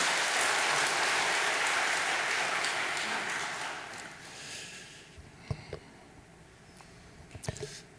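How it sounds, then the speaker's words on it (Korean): Audience applause at a Korean church worship service fills the room, then fades out over about four seconds, leaving a few scattered claps and soft clicks in the quiet. "박수로 모시겠습니다."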